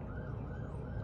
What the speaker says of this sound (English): There's sirens in the background.